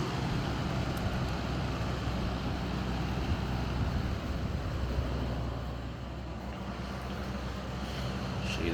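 A vintage Edison box fan running on low, a steady, broad whooshing hum of moving air that holds at the same level throughout, with no voices.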